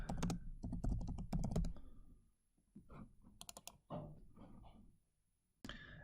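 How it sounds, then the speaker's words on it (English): Bursts of quick key clicks on a computer keyboard while typing a note into a Fusion 360 drawing, close and clear, with short pauses between rapid runs and a few isolated taps near the end. "you can just type in whatever you need"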